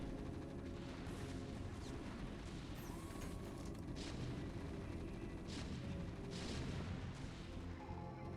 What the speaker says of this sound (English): Some of the tanks firing on the SCV